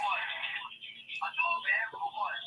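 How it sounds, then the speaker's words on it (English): A phone ringing during a live radio call-in, with a repeating electronic ring tone playing over the line while someone speaks on air. "So this person's phone is ringing."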